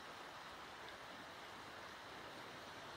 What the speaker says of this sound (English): just crossed this creek.